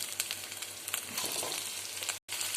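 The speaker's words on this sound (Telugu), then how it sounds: "ఇలా ఫ్రై చేసుకున్న తర్వాత దీనిలో మనం చామదుంపల్ని యాడ్ చేసుకుందాం" Taro root sizzling in a pan with ginger garlic paste, a steady close frying hiss with faint stirring scrapes, no talking.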